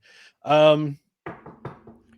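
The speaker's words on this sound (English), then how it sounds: "You hear that knock, Ryan?" Several sharp knocks, as on a door, sound in a quick irregular series after a short burst of voice, fairly close and moderately loud.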